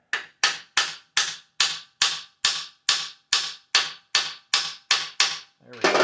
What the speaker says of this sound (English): We're going to use a regular hammer.